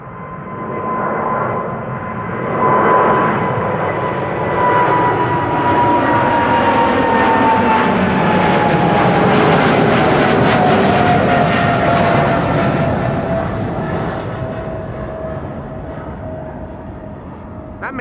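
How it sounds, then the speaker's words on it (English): A KLM Boeing 777-200 passes at Schiphol, its engine whine rising then sliding down in pitch as the roar swells to a peak mid-pass and fades slowly away. "This is a 777-200."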